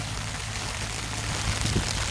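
Heavy rain falls in a steady, dense hiss all around, with a constant low hum running beneath it and no voices.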